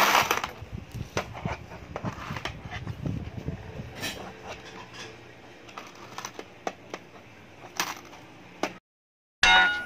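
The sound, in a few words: coins dropping into a child's piggy bank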